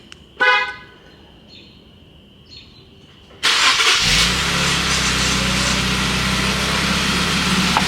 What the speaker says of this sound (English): who's ready for this crazy cold start?